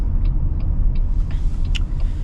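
A 2026 Toyota Sienna Woodland minivan, factory lifted, driving on the road, heard from inside as a loud steady rumble of engine and road noise, with a few faint clicks and a brief higher squeak, no voices.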